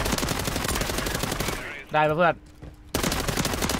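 Dual Uzi submachine guns fire in rapid bursts during a Warzone match, dense and loud through most of the stretch, broken by a short quieter gap where a voice speaks before the gunfire resumes.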